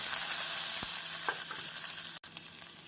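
Mustard seeds, cumin and onion frying in hot oil in a pan for a chow chow stir-fry, a loud steady sizzle with a few faint pops and clicks, close up.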